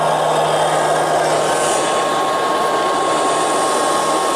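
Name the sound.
Liectroux B3000 robot vacuum cleaner running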